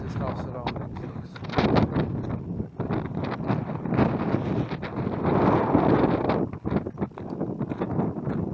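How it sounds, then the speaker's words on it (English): Strong gusting wind buffeting the microphone on a rocky coastal path in Crete, loud and continuous with surging roars and no break. "it's quite windy, which helps."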